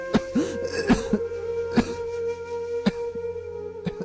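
Repeated harsh coughs, about six bursts spaced irregularly, close and fairly loud, over a steady low hum in the background.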